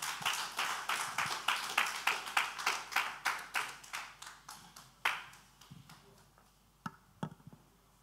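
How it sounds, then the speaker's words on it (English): A small lecture-hall audience gives a short round of applause: a string of distinct, fairly close hand claps that thin out and fade into a few scattered claps, with faint talk underneath. "a big round of applause for him"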